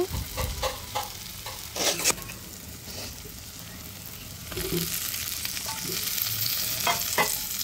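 Fried potatoes are stirred into a sizzling spice paste in a pan. Scraping stirs clatter over a soft sizzle that swells louder and steadier halfway through.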